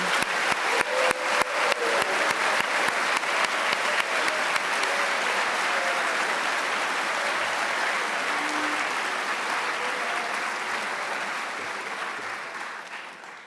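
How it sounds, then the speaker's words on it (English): Auditorium applause for cadet candidates and faculty at a West Point graduation ceremony: a few distinct claps quickly swell into loud, sustained crowd clapping that holds steady and then tapers off toward the end. "Let's just get one round of applause for our cadet candidates and faculty"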